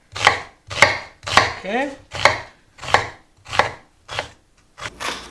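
A knife chops an onion into fine dice, nine firm, evenly spaced cuts striking the board close up, each with a short crisp attack and brief decay. A single spoken word sits among them.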